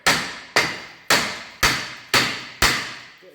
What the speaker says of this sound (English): So these bolts on these, they never seem to come undone, so just use a copper hammer